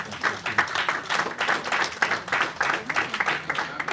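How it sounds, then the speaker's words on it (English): Audience applause at a Nigerian film and TV summit session, many hands clapping in dense, uneven bursts that stay steady and loud throughout. "please a round of applause once again for Mr. Michael."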